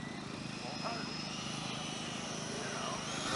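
E-flite 90mm Viper electric ducted-fan RC jet making a slow, flaps-down pass over a runway, giving a steady, continuous fan whine and rushing roar at moderate distance throughout, with faint talk underneath.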